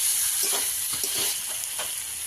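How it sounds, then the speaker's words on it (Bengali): Spices frying in a pan for a pangas fish curry, a steady bright sizzle with soft scraping stirs at intervals, close and continuous with no talking. "সব কিছু ভালো করে কষিয়ে নিয়েছি"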